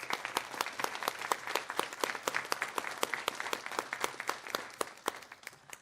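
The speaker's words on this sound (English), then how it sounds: "let's give them all just one more round of applause" An audience at an October 2025 State Board of Education meeting gives a round of applause: steady, fairly quiet rapid claps repeat evenly for about six seconds with little talk.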